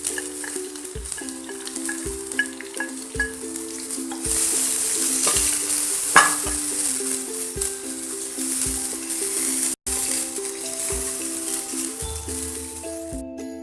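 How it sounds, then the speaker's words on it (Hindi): Onions sizzle and crackle steadily in three tablespoons of hot oil in a pressure cooker, with occasional stirring scrapes and a repeating background tone, close and continuous. "कुकर में हमने 3 बड़े चम्मच तेल गरम कर लिया है और इसमें हम प्याज को फ्राई करेंगे।"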